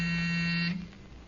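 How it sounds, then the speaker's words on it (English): A harsh electric door buzzer sounds in one steady blast for under a second, then cuts off abruptly into quiet room tone. "And just a second, he'll ring the buzzer."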